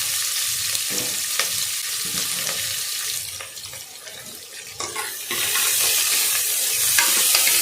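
Steady sizzling of chopped onions frying in hot oil with occasional stirring scrapes; the sizzle grows louder and brighter near the end.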